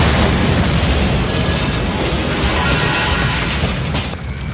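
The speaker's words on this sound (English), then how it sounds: "Grenade." A grenade explosion in the Judge Dredd film unleashes a loud, sustained roaring blast with dense rumbling debris that fills the scene for several seconds before tapering slightly at the end.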